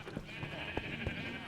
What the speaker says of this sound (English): And this is the sheep. You can't see them, but they're there.